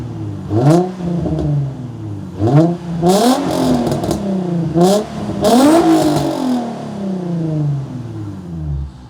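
Nissan 350Z engine revving hard in repeated bursts, each rising and falling pitch sweep loud and close, with a throaty exhaust note and a brief pause between blips.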